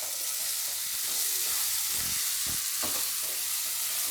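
Spoon stirring a fenugreek leaf and chilli mixture in a pan for Rajasthani mirchi kuta, a continuous close sizzle with a few soft scraping strokes.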